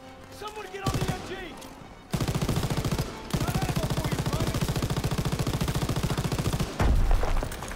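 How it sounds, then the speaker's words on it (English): Machine gun fire in Call of Duty WWII: a short opening burst, then long, rapid, steady rattling streams of shots, loud and close, with a voice briefly heard. "Someone get on the MG."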